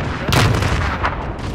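A missile explosion in a multiplayer shooter game: one sharp, loud blast with a booming low thud, followed by a short rumbling tail and a fainter second crack.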